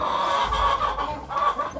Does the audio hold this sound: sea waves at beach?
no